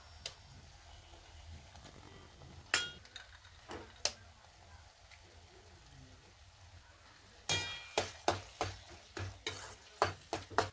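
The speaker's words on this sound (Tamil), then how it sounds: "முட்டை சேர்த்து ஈவனாக மிக்ஸ் பண்ணிக்கோங்க" Egg and ridge gourd stirred and fried in a pan: a soft steady sizzle with quiet stretches, broken by sharp spatula clinks against the pan that come in a quick burst toward the end.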